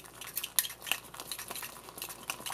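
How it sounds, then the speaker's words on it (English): A spoon stirs sticky natto mixed with mustard and dashi in a bowl, giving light, irregular clinks and scrapes of metal on dish with soft gooey squelches between them, close and alone. "Now I've put in the mustard and the dashi, and now it's easier to stir."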